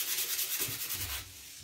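Dried paint on wooden letters hand-sanded with short, close rubbing strokes, a brief raspy scraping that fades toward the end.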